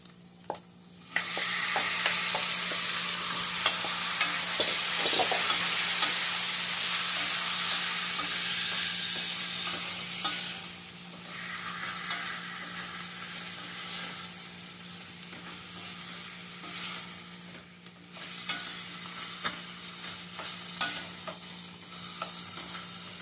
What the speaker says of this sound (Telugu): చికెన్ ఆయిల్లో మంచిగా ఒక 10 మినిట్స్ మగ్గనియాలి